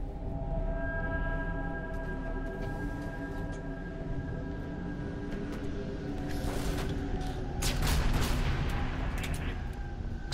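Heavy weapon fire and explosive booms in a Halo 3 ODST Firefight match on the Windward map, a fuel rod cannon firing amid continuous battle noise, with sharper blasts bursting out toward the end.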